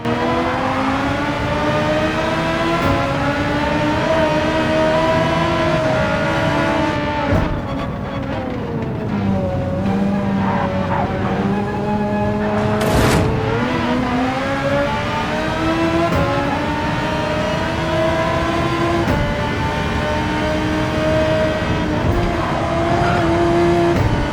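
Race cars in Gran Turismo 7 at the Nürburgring roar continuously and loudly, engines rising and falling through gear changes as several cars run close together.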